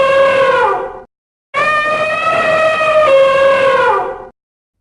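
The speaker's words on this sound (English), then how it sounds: "An elephant trumpets." An elephant trumpets in two loud, brassy calls, a short one then a longer sustained blast with a wavering pitch, clear and close with no other sounds.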